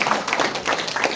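Audience at an olympiad award ceremony applauding two teachers, a short burst of dense, fairly close clapping.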